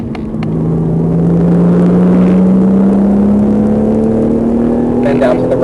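A race car accelerating hard at Portland International Raceway, its loud close engine drone climbing steadily in pitch throughout with a strong, smooth tone.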